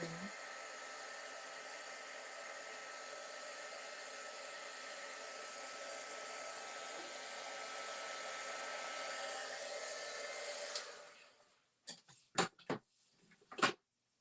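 A hair dryer runs steadily and loudly for about eleven seconds while drying a small inked area on a Christmas and reindeer papercraft project, then cuts off, followed by a few sharp handling knocks and clicks.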